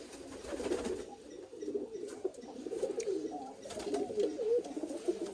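A pigeon coos nearby in soft, low, throaty phrases that repeat over several seconds, with faint rustling and light background noise.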